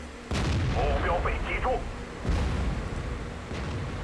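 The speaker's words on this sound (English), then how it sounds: "He finally gets a damaging shot off." A tank cannon fires in World of Tanks, a heavy boom followed by a long rumbling tail, with a second blast-like swell later, all under steady battle noise.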